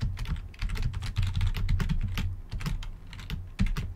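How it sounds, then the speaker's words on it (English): Rapid, steady typing on a computer keyboard while writing Godot 3 code, close and clear with dense clusters of key clacks and no talking. "I'll just go ahead and type it out"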